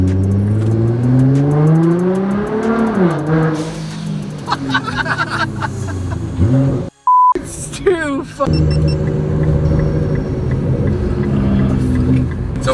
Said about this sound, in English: There's a little bit more rumble back there too,